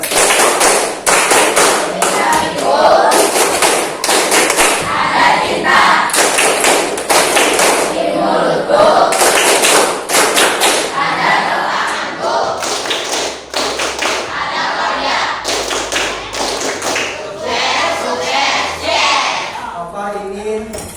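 A classroom group performs the rhythmic "Tepuk Sukses" clapping chant, with loud, steady patterned claps and thumps going on without a break, and children's voices mixed in.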